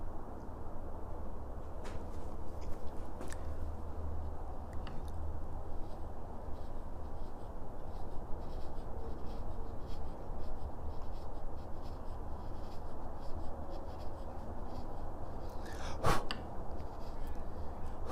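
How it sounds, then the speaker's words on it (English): An 18mm chisel pares marks from the body of a hand plane with quiet, scratchy strokes and occasional small ticks, close and faint over a steady low background hum. "I'm going to remove these marks with a chisel. The 18mm chisel should be perfect for the job."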